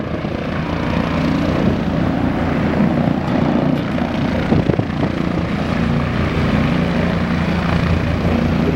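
An air ambulance helicopter coming in to land, its loud, steady rotor and engine roar filling the whole stretch at close range with no break.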